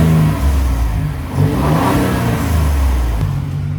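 A stock Ford Raptor engine revs up and settles back to idle, loud and close, with a steady low rumble, a rising mid-range swell in the middle and a faint turbo whoosh, no talking.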